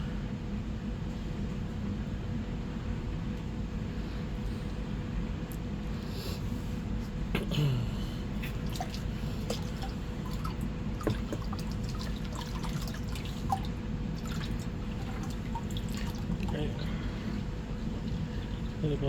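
Water sloshes and trickles steadily as gravel is washed down toward the riffles of a gold pan in a basement, with small pebble clicks and splashes throughout; the continuous watery wash is fairly close and unbroken by talk.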